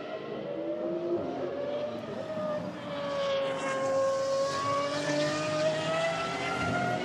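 Race car engine accelerating hard down the main straight at the Barcelona circuit during a GT1 demonstration race, a loud sustained rising drone with a steady climbing pitch, heard alone with no talk.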